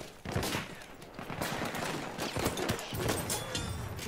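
Dense bursts of automatic gunfire crackle through a squad-based shooter video game match, rapid overlapping volleys of shots continuing throughout at moderate loudness.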